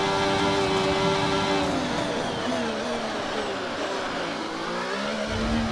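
Formula 1 race cars in F1 24 scream away from the start at the Las Vegas Grand Prix, engines rising in pitch through gear changes as several cars accelerate together, loud and continuous.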